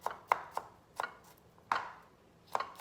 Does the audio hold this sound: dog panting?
no